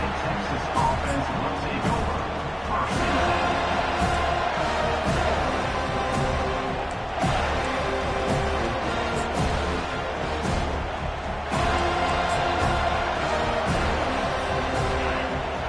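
A college football stadium crowd in the College Football 25 video game roaring continuously, dense and loud with periodic swells, under a play-by-play commentator's voice.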